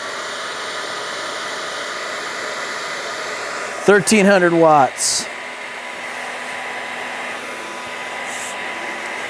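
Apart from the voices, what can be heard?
hair dryer blowing hot air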